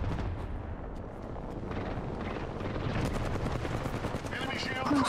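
Gunfire in the battle-royale video game Apex Legends: a steady, dense stream of rapid shots that grows louder and busier partway through and continues to the end.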